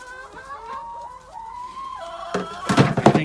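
Chickens cluck and murmur around a feeder on a farm, a run of soft, close calls that swells into a louder, busier burst of clucking toward the end.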